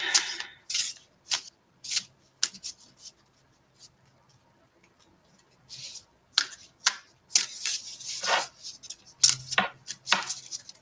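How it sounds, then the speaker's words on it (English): Tarot and oracle cards being shuffled by hand, with irregular bursts of riffling and soft slapping separated by short quiet gaps, close and fairly crisp, with no talking. "I'm getting the feeling to just shuffle again."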